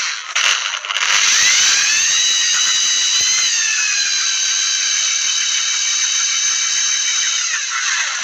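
A handheld electric drill bores holes in a broken plastic fridge door basket during a repair, giving a loud, steady high whine with a slight pitch dip that runs for about seven seconds after a brief start-up.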